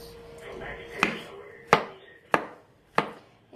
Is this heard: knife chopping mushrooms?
yes